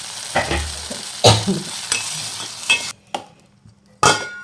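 Curry sizzles in a hot pan while a utensil scrapes and stirs in uneven strokes, with short pauses between bursts.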